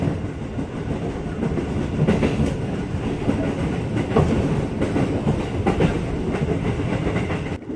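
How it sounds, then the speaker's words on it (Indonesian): Inside the middle cabin of a KRL commuter train running out of Depok at night, wheels clatter in a steady rhythmic clickety-clack over a constant loud rumble of the moving carriage. "Posisi Maul sekarang ada di kabin tengah kereta nomor 5 dari depan."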